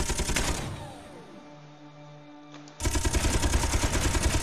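Ship weapon turrets fire in the video game Space Engineers, loud dense bursts that break off into a falling tonal hum, then resume as a rapid steady stream.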